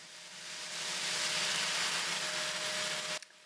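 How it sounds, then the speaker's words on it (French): Onions and minced steak frying in a pan give a steady, close sizzle with a bright hiss that fills the clip. A faint steady tone runs underneath, and the frying stops abruptly near the end. "Je fais revenir mes oignons."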